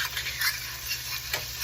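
Sparkling wine hisses and sizzles in a hot buttered pan as a utensil scrapes up the browned bits, a steady, close crackle with a few louder scraping swells and no talking.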